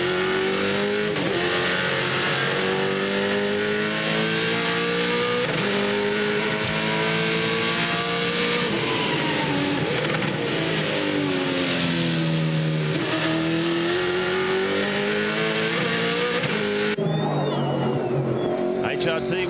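Onboard race car engine at the 1999 Bathurst 1000 with Mark Skaife, loud and continuous, revving up and down through repeated gear changes at high speed.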